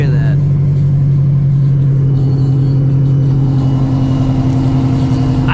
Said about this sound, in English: Revving like people want to hear that.